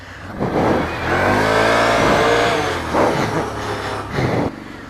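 A 2016 Can-Am Outlander L 500 V-twin ATV engine revs up loudly and close, a sustained rising roar with brief throttle blips and a drop-off at the end.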